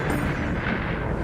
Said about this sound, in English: This is what's called a Strombolian eruption